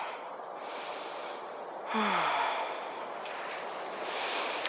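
A deep inhale during a yoga trapeze flow, drawn in once at moderate loudness about midway, with soft breathy texture and quiet room tone around it.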